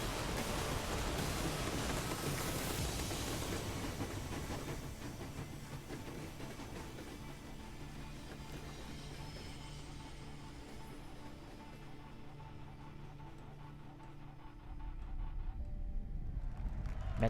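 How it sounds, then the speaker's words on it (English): Rumbling train from the Metro Exodus game trailer, a steady broad roar with rail clatter that holds for the whole stretch, thinning slightly midway before swelling loud again at the end. "Just in time to catch the train"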